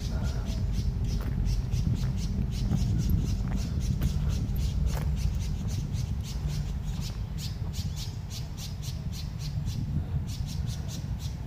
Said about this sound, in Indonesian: Tuh ada burung.